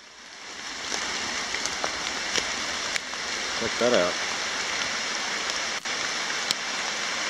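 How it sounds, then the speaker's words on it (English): Heavy rain pours down around a flooded creek at Smith's Creek, a steady broadband roar of falling water and rushing flow throughout, with someone speaking briefly partway through. "Even with a poncho on, rain's dropping on my head."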